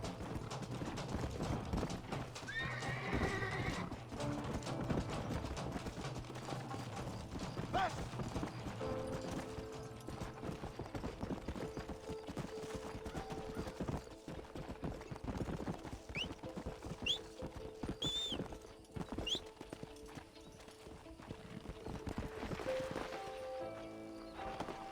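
Horse hooves clip-clopping in Red Dead Redemption, a steady run of hoof beats with an occasional whinny under game ambience and background sound, no talking.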